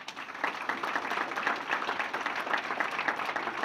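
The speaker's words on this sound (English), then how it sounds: "Once again, a big round of applause for Mr." An audience at a 2019 Murray State Hall of Fame induction applauds for a former 400-meter relay and 800-meter runner, with fairly faint, continuous clapping throughout that sounds somewhat distant.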